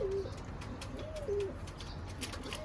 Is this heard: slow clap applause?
no